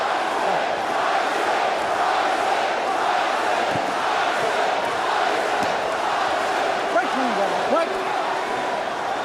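Boxing arena crowd at a Mike Tyson heavyweight fight, a steady loud roar and murmur of spectators filling the whole stretch, with a few brief thuds and cheers rising over the continuous din.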